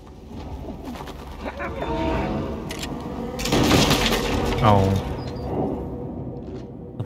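Pigeons coo in the Little Nightmares 2 video game, followed by a burst of flapping wings as the birds take off, set against a murky ambient background.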